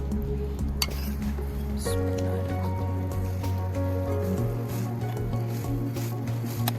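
Chicken soup comes to a boil in a pot, with bubbling and gurgling liquid, a few light clinks and a steady low hum underneath, and no one talking.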